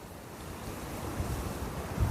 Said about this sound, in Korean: 바람이 자꾸 뒷바람이 부는데